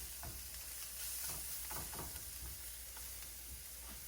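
Seasoned chickpea burgers sizzle steadily in a hot pan, a constant close frying hiss broken by soft scraping and stirring taps, with no voices.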